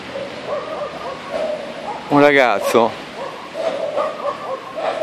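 Dogs in a park give one short, yelping bark midway through. It sits under someone narrating calmly over faint background noise.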